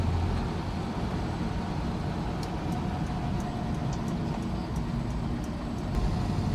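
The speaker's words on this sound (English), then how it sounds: "just listen to that engine" A 1968 Ford Mustang GT fastback's 390 cubic inch V8 runs steadily, a continuous low rumble heard from nearby with no change in pitch or level throughout and a few faint ticks on top.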